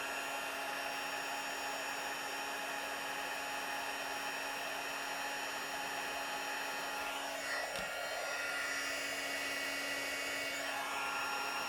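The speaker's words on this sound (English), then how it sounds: "then we can set that with our heat tool" An embossing heat tool blows hot air over a stamped card to set embossing powder, a steady close whirring blower hum that holds evenly throughout with a slight rise near the end.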